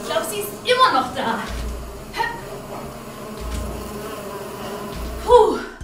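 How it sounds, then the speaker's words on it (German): A bee buzzes during a children's exercise and movement video, a wavering drone that rises and falls across several seconds, mixed with a voice and light background music. "Ich glaube, wir werden von einer Biene verfolgt."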